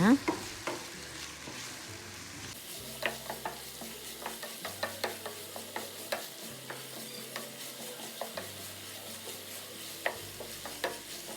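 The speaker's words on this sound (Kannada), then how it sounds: "ನಂತರ ಈರುಳ್ಳಿ ಹಾಗೂ ಹಸಿಮೆಣಸಿನಕಾಯಿಯನ್ನು ಆ್ಯಡ್ ಮಾಡೋಣ ನಂತರ ಚೆನ್ನಾಗಿ ಸಾಟ್ ಮಾಡೋಣ" Onions and green chillies sautéing in oil in a pan, a soft steady sizzle broken by frequent light clinks and scrapes of a spatula stirring, close and moderately quiet with no talking.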